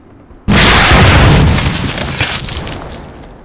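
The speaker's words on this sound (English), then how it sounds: "I'll show you guys my RPG in action too." An RPG rocket launcher fires in the shooter game War Inc: a sudden loud blast erupts after a brief quiet moment and rolls into a sustained roaring boom that slowly fades over a few seconds.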